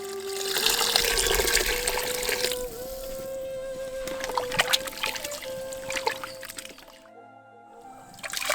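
Water pours steadily into a cooking pot for country chicken sorghum biryani, a continuous splashing trickle for several seconds that thins, briefly stops, then resumes near the end.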